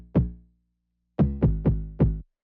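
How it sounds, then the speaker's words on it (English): Short, punchy tom bass hits, one alone and then four in quick succession, each dying away fast, close and fairly quiet with silence around them. "usually a tom bass would sound like this"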